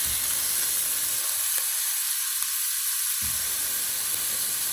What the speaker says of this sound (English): The oil is ready, so I'm going to add some onions.